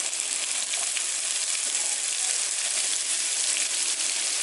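Steady, bright sizzling of finely chopped onions frying in a hot pan, continuous and close with no talking.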